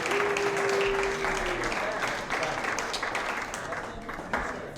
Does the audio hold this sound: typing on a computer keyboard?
no